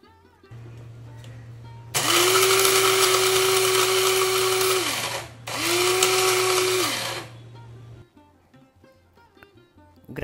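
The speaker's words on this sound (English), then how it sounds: "Transfer some portion of it into the grinder and grind in few batches." Coffee grinder grinding whole spices for masala in two loud whirring bursts, each with a rising and falling motor pitch, close up over a faint steady hum.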